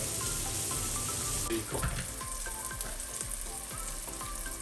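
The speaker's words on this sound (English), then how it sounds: "we are going to fry our bacon until they turn nice golden brown" Bacon sizzles and crackles steadily in a hot pan, frying until golden brown for carbonara, a dense continuous hiss with occasional scraping clicks, close and fairly loud, no voices.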